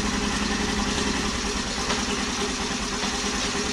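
A Honda Activa scooter engine runs steadily at idle after starting, a constant close mechanical drone with no change in pace throughout.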